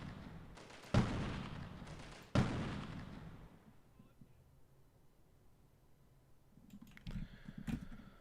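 Two sharp gunshots ring out in the 1998 PC shooter Delta Force, spaced about a second and a half apart, each booming and then fading into a low rumble, with faint ambient game noise and a soft voice toward the end.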